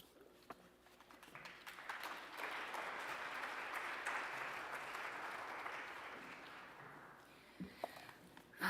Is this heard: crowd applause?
yes